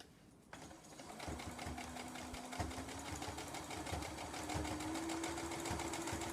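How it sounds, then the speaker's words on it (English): Sewing machine stitching steadily around the edge of a towel, a fast, even mechanical whir with a rising hum as it runs continuously and close by. "It's very important that you sew all the way around the edge."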